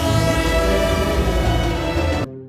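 A train horn sounds one loud, steady, sustained blast lasting about two seconds, then cuts off abruptly, with nothing else audible.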